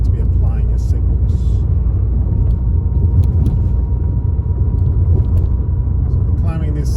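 A car engine labours up a steep hill in third gear at around thirty miles an hour, a steady low rumble under continuous road noise and someone talking over it.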